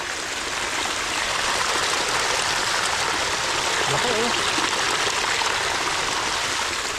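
Steady rushing water flowing without pause, a broad continuous wash of sound with no other distinct events standing out.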